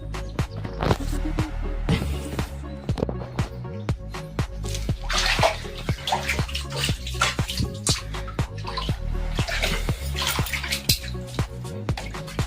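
Water from the Ganga Jamuna spring at Asirgarh Fort pours and splashes steadily, close and moderately loud, with rhythmic gurgling pulses throughout.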